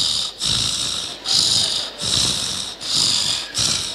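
A voice imitating a husband's snoring, loud and close, with four or five long raspy breaths following each other in a steady rhythm, each broken by a short pause.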